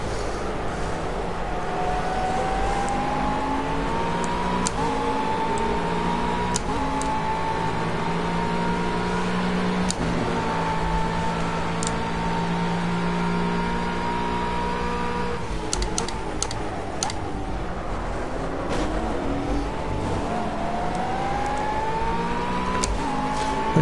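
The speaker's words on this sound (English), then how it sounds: "Considering how much power this car's got, it doesn't really seem to make a lot of noise." A race car in the video game Project CARS drives continuously, its engine whining and rising and falling through gear changes, with other cars faintly passing, a steady moderate drone throughout.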